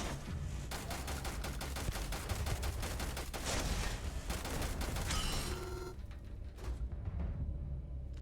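Gun firing in Starfield: rapid, loud, evenly spaced shots in a sustained stream for several seconds, then a pause and a couple of mechanical clicks and tones at the end.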